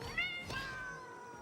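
Cats meow in the video game Satisfactory, a couple of clear, fairly faint mews close together, the first rising and falling and a second longer one trailing off.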